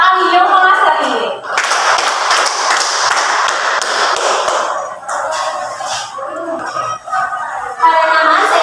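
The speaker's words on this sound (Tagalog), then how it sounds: "bigyan niyo ng 10 palakpak ang iyong mga sarili" A group claps together in a series of sharp, rhythmic bursts, loud and close, with a voice speaking before and after the clapping.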